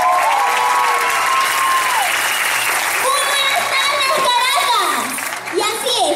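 Audience applause fills a children's beauty pageant gala in Caracas, steady and loud throughout, with children's voices and shouts rising over the clapping and music-like tones.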